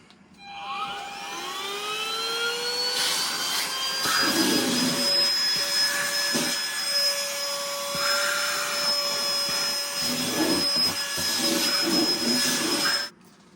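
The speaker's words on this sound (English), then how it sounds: "this is what I use for a little vacuum cleaner." A small USB-rechargeable handheld vacuum whirs up to speed with a high steady whine, running continuously with brief bumps and rattles as it sucks up crumbs, then cuts off.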